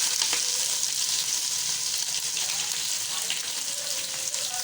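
Onions fry in hot oil with whole spices for chicken biryani, giving a steady, close sizzle that crackles throughout.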